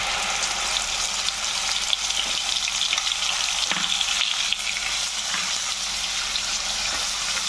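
Onion paste frying in hot oil with bay leaf, cardamom and cinnamon in a pan, a loud steady sizzle heard close with occasional faint stirring scrapes, no voices.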